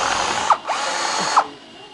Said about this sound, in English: It's just as easy to drill the whole thing in reverse.